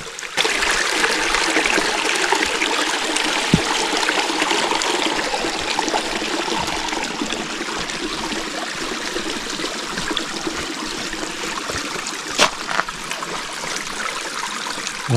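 Water runs steadily over a granite creek bed with pink quartz, a continuous close broadband rush and trickle with a few brief knocks, and no voices.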